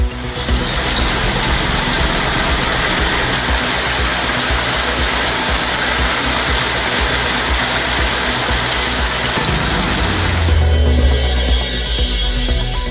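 Heavy rain pours steadily during a downpour in Tamil Nadu, a dense constant hiss with a low rumble like passing traffic, shifting in tone near the end, with no voices.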